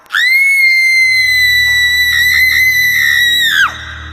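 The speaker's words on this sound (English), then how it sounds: "She opened her eyes and screamed." A woman's shrill, high-pitched scream rings out loud and alone in a horror tale, holding steadily for about three and a half seconds before it breaks off sharply.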